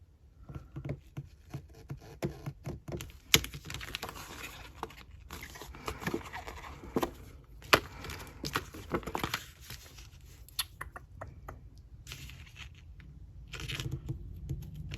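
Craft knife cutting card on a glass mat, faint scratchy scoring strokes and soft taps in irregular bursts, close and quiet, with no voices.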